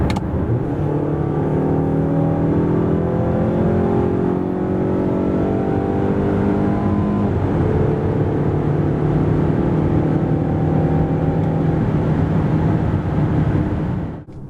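A 2026 Mazda CX-5 with a 2.5-litre 141 hp engine accelerates steadily from 90 to 140 km/h, its engine note climbing continuously over road and tyre roar, loud and close from inside the cabin, with no talking.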